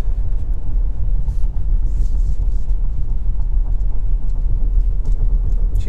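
Kia Sportage on 18-inch wheels with conventional, non-electronic suspension rolling along the road, giving a steady low tyre and road rumble with a soft engine hum that stays even and fairly loud throughout, with no talk.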